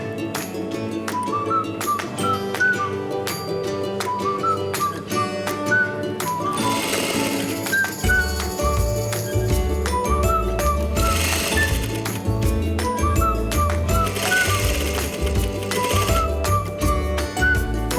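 A sewing machine runs a long stretch of rapid, even stitches, sewing a straight facing along the lower hem of a pyjama top. The close mechanical chatter carries on throughout, with a light melody playing underneath.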